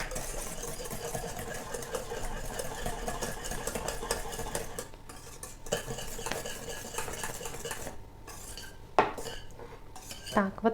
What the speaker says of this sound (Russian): Теперь добавляем соду и хорошо перемешиваем.